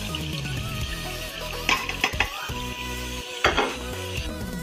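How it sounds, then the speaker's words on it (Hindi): Masala paste fries and is stirred in a pan, with soft sizzling under repeated scraping and clinking of a spoon against the metal pan, including a few sharper knocks, close and fairly quiet, with no talking. "जी तो ये देखिए मैं अच्छे से साथ साथ भून रही हूँ।"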